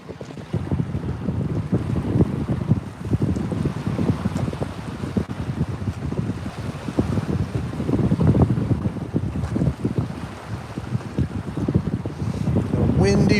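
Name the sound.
wind blowing at a reservoir, wind noise on microphone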